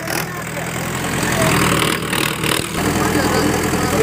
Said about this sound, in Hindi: साथ निकाल देगा ट्रैक्टर, बहुत बड़ा है, दोबारा दौड़ने की कोशिश की जा रही है।